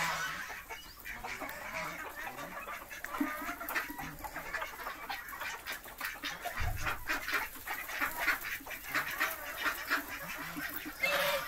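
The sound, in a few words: desi gavran chickens and ducks on poultry farm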